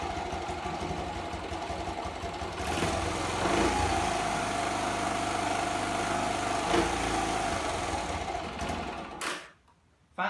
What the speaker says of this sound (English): Okay, I won't let the engine run anymore inside the garage.